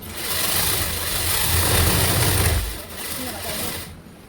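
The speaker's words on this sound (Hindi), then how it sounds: "ऐसे ही हमें इस साइड में सिलाई मार लेनी है" A sewing machine running continuously while stitching the side seam of a blouse, a steady whirring drone that eases off briefly near the end, with a voice talking over it.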